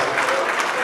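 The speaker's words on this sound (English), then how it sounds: "Please, can we just give him a round of applause?" Brief, loud burst of audience applause at a diaspora gathering in Toronto, honoring a 102-year-old man, steady crowd clapping throughout.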